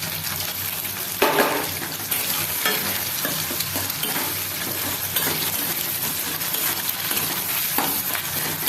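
Egg frying in a hot pan, with constant sizzle and the scrape of a spatula stirring it around, close and fairly loud.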